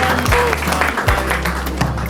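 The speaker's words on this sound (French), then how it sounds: "On applaudit s'il vous plaît" Wedding guests applaud in a short burst of close, dense clapping over a loud low hum, with a few faint voices mixed in.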